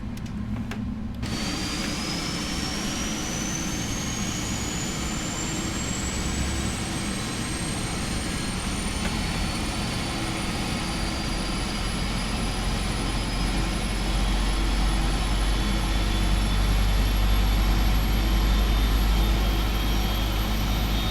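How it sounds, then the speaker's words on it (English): Left jet engine of a PMDG 777F starting up in a flight simulator: a steady roar and whine that builds as a high tone climbs slowly in pitch, with low rumble growing stronger toward the end. "Let's go ahead and start the left-hand engine."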